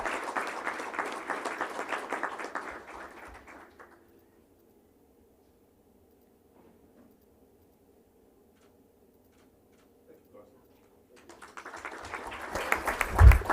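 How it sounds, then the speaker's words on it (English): Applause from the audience at a school board meeting honoring students of the month: a few seconds of clapping, a long quiet stretch with faint room hum, then clapping starting up again and growing louder. "if you'll just give him a round of applause"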